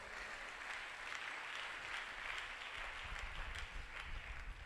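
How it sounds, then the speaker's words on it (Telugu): A church congregation clapping together, a dense steady burst of applause heard from a distance and fairly faint, lasting a few seconds with no talk over it. "కొట్టు చప్పట్లు ఒకసారి"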